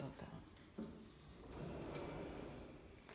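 Handmade shoji sliding doors in a living room are pulled open, giving a few soft knocks and then a longer sliding rumble near the end, with a voice talking over parts of it.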